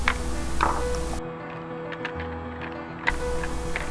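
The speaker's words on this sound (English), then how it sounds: "And here I'm testing out the X-Wing mechanism." Mechanism of a restored 1978 Kenner X-Wing Fighter toy being tested: a steady mechanical whir with clicking and ratcheting taps, cutting out briefly midway before starting again, close and fairly loud, with no talking.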